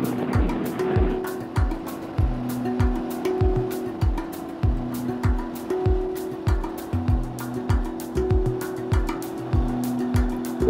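A car drives along a road in South Africa, its engine and tyre noise rising and falling in a repeating pattern of passing surges, with a steady hum beneath.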